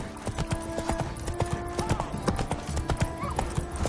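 Hooves of Roach, a horse in The Witcher 3, clip-clop in a steady, fairly quiet rhythm on the ground, with a few brief snorting sounds mixed in.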